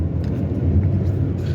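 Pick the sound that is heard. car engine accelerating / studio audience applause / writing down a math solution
car engine accelerating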